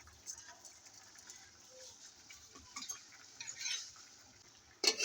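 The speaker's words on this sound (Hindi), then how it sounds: "अब मैं इसको मिक्स कर दूँगी।" Chopped raw mango and sugar stirred together in a pot for mango murabba, quiet scattered scraping and light clicks of a spoon, with a sharper clatter near the end, no talking.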